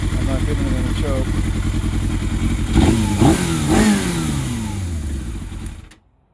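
A 2004 Yamaha YZF600R motorcycle engine runs with no choke, idling with a rough, throbbing pulse and revving up in a few rising bursts before cutting off, loud and close.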